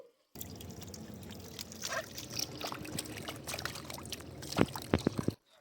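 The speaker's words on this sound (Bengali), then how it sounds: "এখন আমি আমটা পরিষ্কার ভাবে ধুয়ে নিব।" Mangoes being rinsed under water for mango jelly: a continuous close pour and splash of running water with sloshing, ending in a few sharper knocks and drips before it cuts off.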